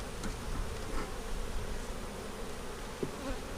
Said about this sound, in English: That's some mean bees, ain't it?